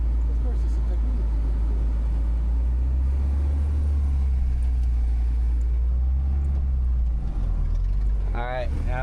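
A 1987 Nissan D21 pickup truck pulling away after a clutch release, its engine a loud, steady low rumble close by throughout.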